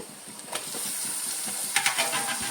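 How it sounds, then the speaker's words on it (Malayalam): Sliced tomatoes and onions roasting in a pan with green chillies and curry leaves, giving a soft, steady sizzle with a few brief stirring clatters, close and fairly quiet. "തക്കാളി സബോള എല്ലാം നല്ലോണം ഒന്ന് റോസ്റ്റായി എടുക്കാം"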